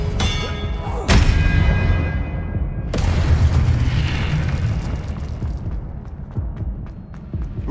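Fiery spell blasts in the Hogwarts Legacy video game: a sharp explosive boom, a second heavy burst about two seconds later, then a rumbling, crackling decay with faint mechanical clatter.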